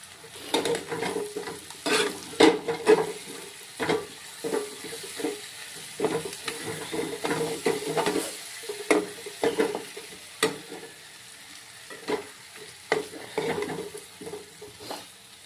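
Dried loitta fish, lote shutki, is stirred and fried in a pan in spicy masala, giving close, uneven bursts of scraping and sizzling with knocks against the metal and no talk.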